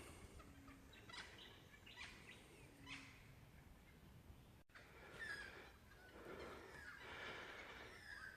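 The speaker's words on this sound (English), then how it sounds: "let you listen to the birds." Faint, distant birds, including magpies, call now and then over a quiet outdoor background in a conservation park, a few scattered chirps and cries.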